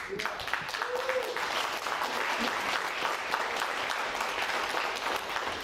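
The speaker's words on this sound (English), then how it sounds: "I think that deserves a big round of applause" A round of applause fills a post-fight press conference, steady and moderately loud throughout, with a voice briefly audible over the clapping near the start.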